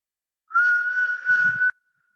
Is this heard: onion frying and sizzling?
no